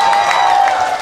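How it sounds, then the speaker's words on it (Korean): An audience claps together at a Korean music show, a dense, steady wash of applause that holds evenly throughout. "박수 쳐야지 이럴 때는."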